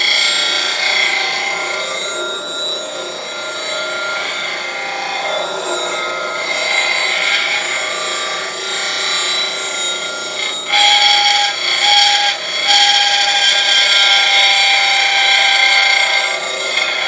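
The edge of a negative rake woodturning scraper is lightly dressed at a 70 degree angle, producing a steady abrasive rubbing hiss with a thin whining tone that comes in short bursts toward the end.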